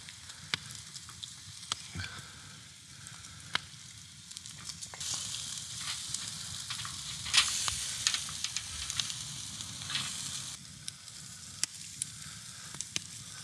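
Barbecue-sauced pork ribs sizzle over high heat in a Dutch oven on a campfire, a steady close frying hiss with scattered sharp pops and crackles, swelling louder midway, no voices.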